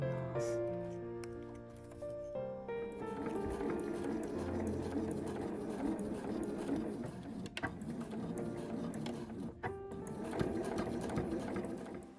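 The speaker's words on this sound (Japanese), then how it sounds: "でこの中央のところは返し縫いをしましょう。" Sewing machine stitching a quilted nubi cotton cool-storage drawstring tote, including back-stitching at the center: a steady, close, rapid mechanical whir with brief pauses and speed changes, no talking over it.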